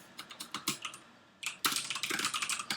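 Code is typed on a computer keyboard during Java programming: two bursts of quick, close key clicks separated by a short pause, the second burst denser and louder, with no talking.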